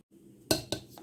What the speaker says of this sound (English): And I'll mix this together well.